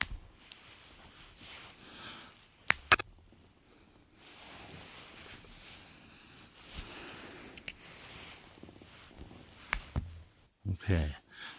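American 90% silver half dollars are flipped and ring out with bright, sustained metallic tones, three or four separate pings spaced a few seconds apart over quiet handling noise and low room sound.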